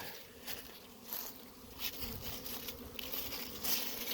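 Faint continuous buzz of honeybees flying in and out of hives in an outdoor apiary, a soft drone with light patter and crinkle, distant and low in level.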